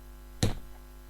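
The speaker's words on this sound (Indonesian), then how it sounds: "Misalkan saya pukul kursi nih ya," A chair is struck once, giving a single sharp, close knock that dies away quickly against a quiet room.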